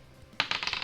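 Dice clatter onto a desk during a Final Fantasy D20 tabletop session, a short burst of several close, bright rattling impacts that bounce and settle over about half a second after a quiet start.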